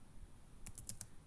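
A computer keyboard clicks in a quick run of about five soft keystrokes in the second half, faint and close, over a quiet room background with no talking.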